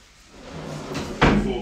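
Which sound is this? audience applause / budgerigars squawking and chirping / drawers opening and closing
drawers opening and closing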